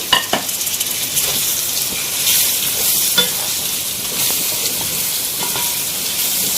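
Spices and medium-sized tomatoes fry in a pot for chana pulao, a loud, steady sizzle with scattered clinks and scrapes of a spoon stirring close by.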